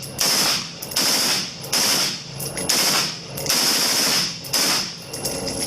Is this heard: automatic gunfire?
yes